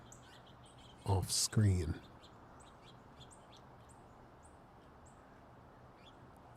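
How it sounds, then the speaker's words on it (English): Faint chirps and calls of winter birds, including a red-bellied woodpecker, scattered over quiet outdoor ambience, with a short burst of nearby speech near the start. "I believe that's the red-bellied woodpecker that just scared them all, if you can hear him"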